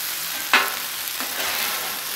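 Fried rice with garlic sizzles on a flat hibachi griddle beside steak and shrimp, a steady broadband hiss with one sharp metal spatula scrape early on and a softer one later.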